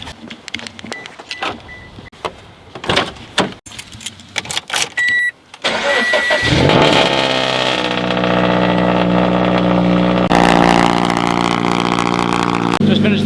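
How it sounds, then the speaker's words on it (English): Subaru BRZ engine cranks and catches, then settles into a steady, loud idle to warm up, preceded by scattered handling noises and faint rustling. "I'm just gonna go ahead and start my car,"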